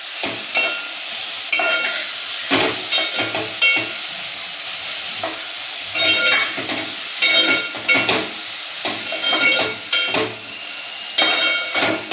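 Grated carrot is stirred in a pan for carrot halwa, with repeated scraping strokes of a spoon and a soft sizzle underneath, close and fairly loud, with no talking.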